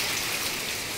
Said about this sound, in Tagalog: Insakto biglang bumuhos ang malakas na ulan pagkarating